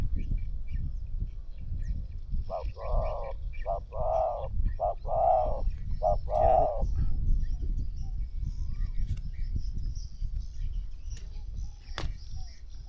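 A spotted dove's soft rhythmic cooing, a run of about six low hooting notes, over steady background rumble and noise.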